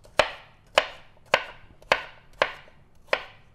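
A knife chops through an apple on a cutting board, six crisp, evenly spaced thuds about half a second apart, close and clear with no talking.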